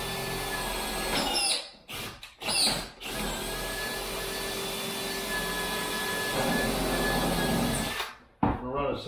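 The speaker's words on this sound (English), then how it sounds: "What I'm going to do is I'm going to tilt the drill" A power drill boring a hole during a basic kitchen cabinet install, a steady whirring drone running for several seconds with brief stops and restarts, close and loud, with a person talking at times.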